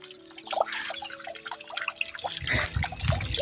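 Melting ice drips and trickles in soft, irregular drops, quiet and close, with a faint steady background hum.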